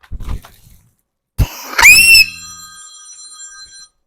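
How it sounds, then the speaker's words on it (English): An electronic telephone ring sounds loud and close for about a second, a single bright trilling burst that decays away, preceded by a few scattered knocks and bumps in an otherwise quiet room. "Hold on, we got a phone call, guys."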